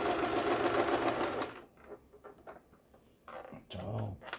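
Juki HZL-12Z sewing machine running a straight stitch, a loud whirring motor burst that stops, then a couple of shorter runs after a pause with small mechanical clicks, close up and without talk.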